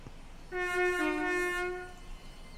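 A passenger train sounds a loud, steady horn blast lasting about a second and a half as it moves along the rails, the tone swelling and then fading with rumble underneath.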